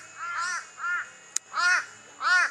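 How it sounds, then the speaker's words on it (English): Crows near a beach caw loudly and close by in a series of four harsh, drawn-out calls spaced about half a second apart, with a single sharp click between them. "you'll probably hear the crows and an eagle"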